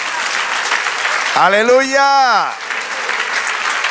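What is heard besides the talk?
congregation applause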